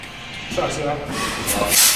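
Air brake on a locomotive releasing with a rising hiss of escaping compressed air, building toward a loud burst near the end, with faint voices beneath.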